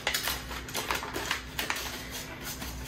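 DNA test kit envelope being torn and opened, producing steady crinkling and rustling of paper or plastic with small sharp clicks, close and moderately loud throughout.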